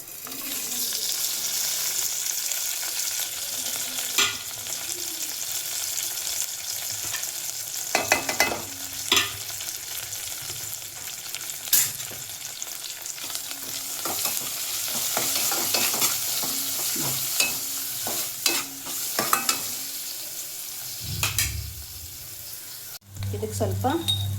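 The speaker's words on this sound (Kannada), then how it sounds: "ಇದೆಲ್ಲ ಒಗ್ಗರಣೆ ಹಾಕೋಣ" Spices crackle and sizzle steadily in hot oil as a tempering for a horse gram dal dish, a close continuous fry with bursts of popping and occasional stirring scrapes throughout.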